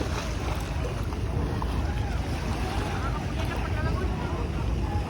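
A fishing boat comes in to shore during tuna season, heard as a loud, constant rush of wind, surf and engine rumble that fills the scene, with faint voices underneath.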